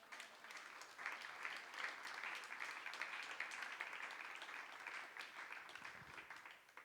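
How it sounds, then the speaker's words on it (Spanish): A church congregation breaks into sustained applause, a continuous, fairly quiet roar of many clapping hands that holds steady for several seconds with no voices. "Denle un aplauso al Espíritu Santo."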